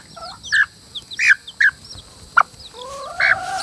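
Chickens and a chick on a farm in a forest setting cluck in short separate bursts, with a few higher chirps and a longer call near the end, fairly close against quiet outdoor background.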